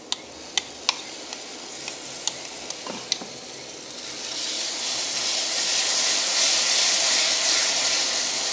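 Yogurt masala is poured into a hot pan and stirred, starting with a few sharp clicks of a spoon against the pan, then building into a loud, continuous sizzling hiss.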